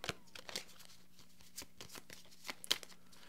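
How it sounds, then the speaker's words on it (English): Pandemic board game infection cards are shuffled by hand, giving soft scattered riffling flicks and crisp card snaps at irregular intervals, quiet and close with no voices. "shuffle the infection discard pile"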